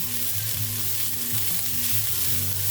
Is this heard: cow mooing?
no